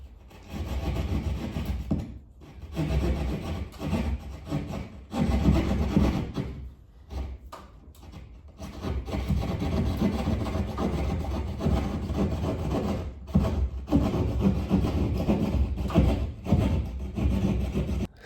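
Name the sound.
Leatherman knife cutting hole in drywall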